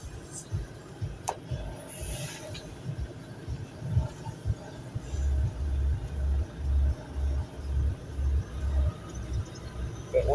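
A vehicle creeps along slowly in crawler gear on a road, its low engine note steady and muffled, with rhythmic low thumps running through the second half.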